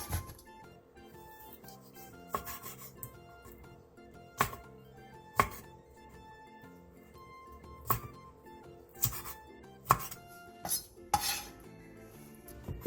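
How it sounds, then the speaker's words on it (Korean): Knife chopping blanched squid into pieces on a cutting board, a series of sharp separate taps at irregular intervals with light clinks of utensils, close and clear, no talk. "데친 오징어는 찬물에 헹군 뒤 먹기 좋은 크기로 잘라주세요"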